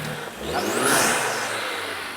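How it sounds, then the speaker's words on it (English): An old, long-unused car with 222,422 miles on it revs as the gas is hammered, a mid-pitched engine rising to a whirring peak and easing off, moderately loud and with no voices. "start it up after sitting for who knows how long and just hammer the gas over and over and over again"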